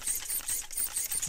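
KST servos running at 8.4 volts on the four-wheel steering of an Axial UTB18 Capra RC crawler, a rapid series of short whirring, ratcheting gear bursts close up, repeating in quick rhythm with no talk.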